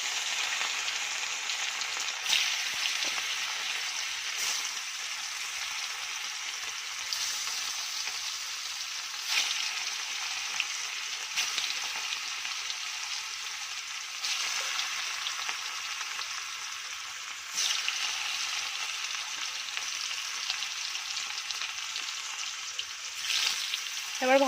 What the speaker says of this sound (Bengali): এবার একটা একটা করে কলার মোচাগুলো দিয়ে দেবো কড়াইতে